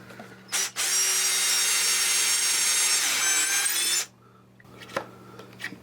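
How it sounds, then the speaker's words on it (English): A steady, loud grinding drill whir drilling out a hole in a gun recoil pad runs for about three seconds, with a short burst just before and faint clicks and scrapes afterward. "so we're going to go ahead and drill that out."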